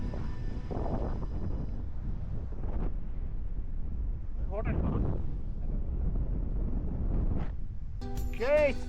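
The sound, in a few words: wind blowing at a viewpoint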